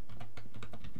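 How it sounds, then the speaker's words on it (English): Keys tapped on a computer keyboard while typing into software settings, about six quick, fairly close clicks in an uneven rhythm with nothing else audible. "you type in"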